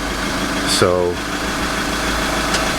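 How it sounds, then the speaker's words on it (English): A Volkswagen Caddy van engine idles with a steady, even low rumble throughout, and someone speaks briefly over it. "the engine's running absolutely fine"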